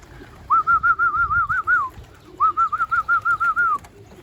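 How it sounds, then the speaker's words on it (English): Racing pigeons at a loft give two rolling, warbling coos in a row, close and clear over faint background rustle. "Birds are back. Let's see if we can get them in."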